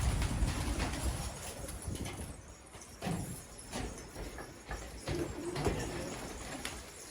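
Soft cooing of pigeons on a rooftop against steady outdoor noise and rustling, with a few fluttery thumps; no one speaks.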